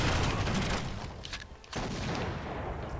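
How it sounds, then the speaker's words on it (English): Enemy submachine guns fire in 007 Agent Under Fire as dense, loud, continuous rattling bursts, nearly unbroken apart from a short dip in the middle. "So these guys are using Ingullis submachine guns."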